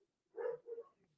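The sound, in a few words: dogs barking outside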